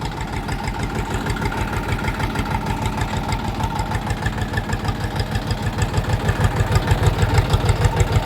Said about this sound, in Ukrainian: Працює двигун суперово.